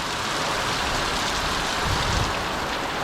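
Heavy, steady Hurricane Ian downpour roaring close by, a dense continuous wash of rain with a slight surge of wind near the end.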